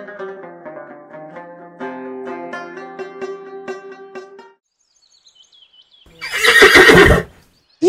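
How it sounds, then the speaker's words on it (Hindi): A cartoon horse lets out a loud, bright whinny near the end, following a stretch of light animated background music and a brief silence. "ये घोड़ा कहाँ से ले आए हो ऐनक वाले जिन?"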